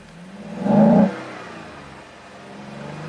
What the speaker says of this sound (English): And the exhaust sounds a little strange.